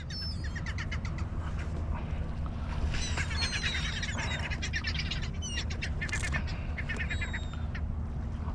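Seagulls call repeatedly over steady water and wind noise on a Marina Del Rey ocean outing, their sharp squawks and cries coming in bursts at moderate distance with no talking.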